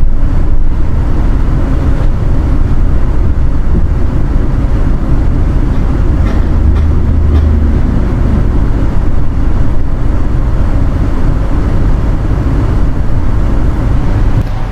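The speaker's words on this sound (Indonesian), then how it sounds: "ini berpapasan dengan kereta api Lodaya Malang KA94 dari Bandung dengan tujuan Solo Balapan" The Lodaya Malang KA94 passenger train from Bandung to Solo Balapan rushes past close by, heard as a loud continuous rumble and roar that holds steady throughout.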